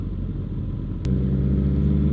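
A motorcycle exhaust burbles nearby on a group ride, a low rumbling drone that swells louder halfway through as a bike passes close, with no speech.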